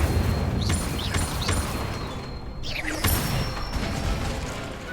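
The Incendio fire spell is cast in the video game Hogwarts Legacy: several quick whooshing bursts with sharp rising swishes and a loud crackling flare near the middle, set over a low ambient rumble.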